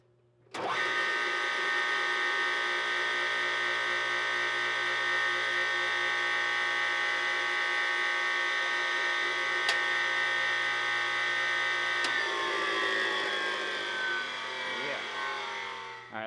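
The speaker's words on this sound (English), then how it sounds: "6x48 belt grinder with the 3 horsepower 3-phase motor" Old 6x48 belt grinder with a 3 hp three-phase motor starting up and running without a belt, giving a steady loud electric hum with dense whining harmonics, a couple of sharp ticks midway, and a slight change in tone near the end.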